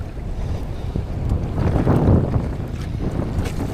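Strong wind at sea, with waves around 10 feet, roars and buffets the microphone with a deep, rushing rumble that swells and eases, with no one speaking.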